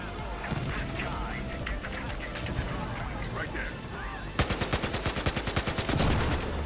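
Rapid bursts of automatic gunfire erupt loudly in the Battlefield Hardline beta after a stretch of noisy game sounds and chatter, a fast rattling volley of shots.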